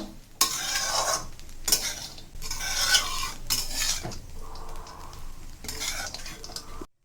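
Homemade chowmein with omelette and fried peanuts being stirred in a pan, repeated bursts of metal spatula scraping and clatter at irregular intervals over a light sizzle, close by, with no voices.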